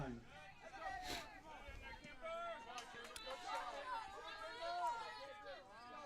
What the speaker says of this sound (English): And you can hear the judges or the PA system in the background.